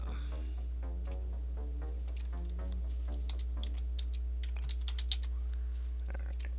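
Quick, irregular clicks of a computer keyboard as someone types to create an htdocs folder, with a steady low hum underneath.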